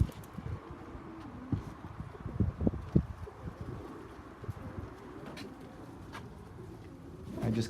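Pigeons coo softly at a homestead loft, several low throaty coos rising and falling over quiet rustling, with faint chirps and occasional light knocks nearby.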